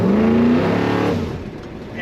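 A 1963 Ford F100 4x4 truck engine revs loudly under throttle, a rising growl that peaks early and then fades over about two seconds, with no talking.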